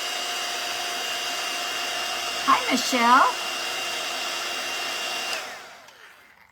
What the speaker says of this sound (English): we're going to hit it with the dryer just in case